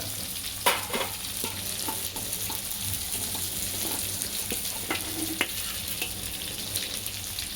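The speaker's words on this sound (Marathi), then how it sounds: "त्या मधनं मीडियम गॅसवर त्या शेकत आहोत." Bangda mackerel fry in oil over a medium gas flame, giving a continuous sizzle with occasional sharp pops and spatters and a few faint stirring scrapes, close and steady without speech.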